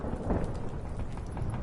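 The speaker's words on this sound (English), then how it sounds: "Didn't bargain for no storm." Heavy rain pours in a video game storm under a deep rolling rumble of thunder, a dense, loud, continuous wash with no voices.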